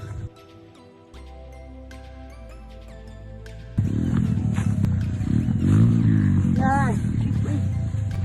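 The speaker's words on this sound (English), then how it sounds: "that engine is giving it some" A motorbike engine revving hard uphill in Spain, a loud, rising growl that swells sharply partway through, with background noise underneath.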